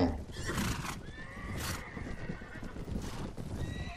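Horses whinny and neigh loudly several times over clattering hooves during a large cavalry battle in Mount & Blade Warband, with someone talking over the game sounds.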